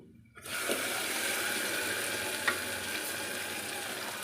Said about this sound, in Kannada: ಸ್ವಲ್ಪ ಹೊತ್ತು ಇದು ಎಣ್ಣೆ ಬಿಡೋವರೆಗೂ ಫ್ರೈ ಮಾಡ್ಕೊಳ್ಳಿ